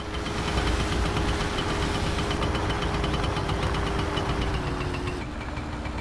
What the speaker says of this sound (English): let's see if I can actually remember how to run the moped